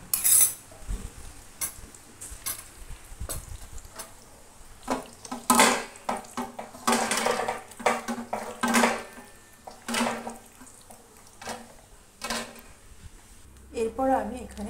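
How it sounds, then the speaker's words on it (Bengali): Raw chicken is mixed by hand with yogurt in a bowl, giving soft, wet squelching and scraping in irregular bursts, with an occasional light clink against the bowl, close and fairly quiet. "এবার আমি পুরোটাকে মেখে নেব।"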